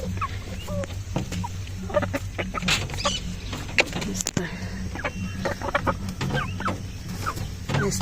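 Chickens and a rooster in a backyard coop on a Nepali home farm, with scattered clucks and short calls under ongoing scratching and rustling, fairly close and busy throughout.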